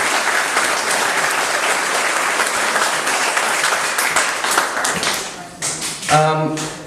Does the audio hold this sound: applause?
yes